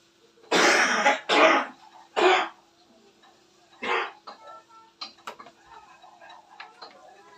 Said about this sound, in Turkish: Çok öksürüyorum arkadaşlar.